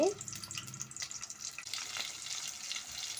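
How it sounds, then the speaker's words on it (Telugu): Cut onion hitting hot oil in a pan for brinjal curry, a dense, steady sizzle of frying that carries on evenly after a brief initial clatter. "ఇప్పుడు ఉల్లిపాయ వేసుకుందాము కట్ చేసుకున్న ఉల్లిపాయ"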